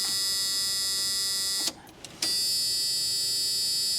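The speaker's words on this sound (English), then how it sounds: "That stupid buzzer." A 1984 Chevy Camaro's warning buzzer sounds as a loud, steady electronic tone, breaks off for about half a second with a click, then resumes unchanged.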